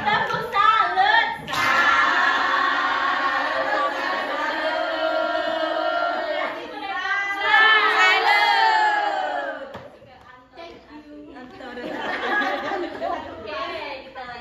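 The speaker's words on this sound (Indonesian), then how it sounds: "Tepuk salut dulu ya. Tepuk salut." A group of teachers in a classroom session performs a rhythmic clapping chant, voices shouting in unison over patterned claps, loud and close, with short pauses between phrases and a final round near the end.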